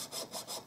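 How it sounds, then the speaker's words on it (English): A jeweler's saw cuts into the broken valve stem of a Bach Stradivarius trumpet, making quick rhythmic rasping strokes, about four back-and-forth passes, close and steady with no talk. "I'm also stopping and checking as I go to see how far the jeweler's saw has gone"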